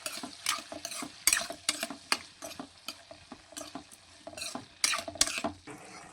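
Tomatoes sizzle in a pan for a okra tamarind stew while a spoon scrapes and stirs them in quick repeated strokes, close and clattery with a soft frying hiss underneath.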